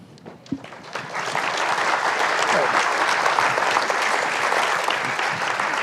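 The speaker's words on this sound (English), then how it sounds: "I see you like to applaud." Audience at a 2019 tribute to Dr. Martin Luther King, Jr. breaks into applause that builds after a brief voice at the start and then holds as a steady, dense wash of clapping.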